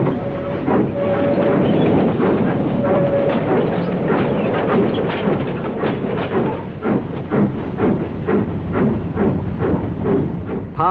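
The steam locomotive City of Truro runs along the track with a steady hiss, rhythmic chuffing and rapid clattering beats that grow sharper and more distinct toward the end, heard without speech.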